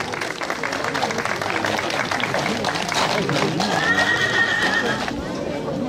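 Horses whinny and neigh with steady clip-clop of hooves during a horse presentation at the Toucy Beau Marché, a drawn-out whinny standing out midway over continuous crowd noise and a voice on a loudspeaker.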